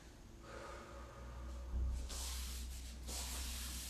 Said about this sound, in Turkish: Nefes alıp veriyoruz.